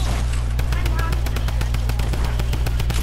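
Rapid automatic gunfire in a video game, a fast, evenly spaced stream of loud shots that runs without a break over a steady low hum.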